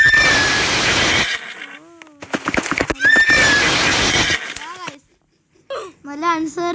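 A horse in the Roblox video game neighs loudly twice in long, shrill whinnies, each followed by gaps where a voice talks.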